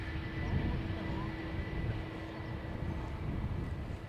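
A Pegasus Airbus A321neo airliner lands at Schiphol, its steady low engine roar and rumble continuing throughout, heard from a distance under wind noise.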